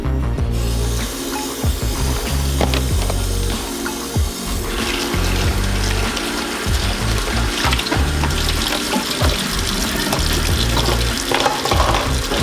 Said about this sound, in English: Whenever I rinse my dishes, sometimes I leave the water on.